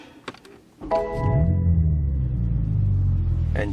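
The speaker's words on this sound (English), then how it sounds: "So this is where you switch on the engine" A 2021 BMW M3 Competition engine starts after a couple of cabin clicks, catching with a sharp thunk and settling into a deep, steady rumbling idle close by.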